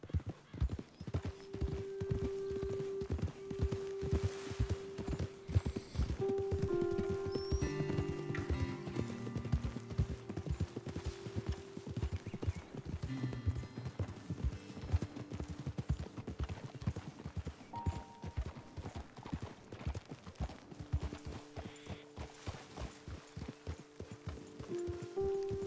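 Horses walking in Red Dead Redemption 2, their hooves clip-clopping in a steady rhythm up close throughout, with soft tack and ambient game sounds underneath.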